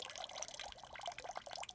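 A Wonder Wash manual washing machine drains its water: faint trickling and dripping close by, a light, continuous splashing flow with small irregular drops and no voices.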